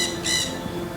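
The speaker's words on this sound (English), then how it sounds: "This parrot fills the air with vibrant squawks and bright feathers during the day." A parrot in a rainforest gives two harsh, bright squawks in quick succession, fairly loud over a steady low background.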